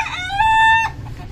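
An Aseel desi rooster on a free-range farm crows once, loud and close, in a single sustained call that cuts off cleanly into quiet.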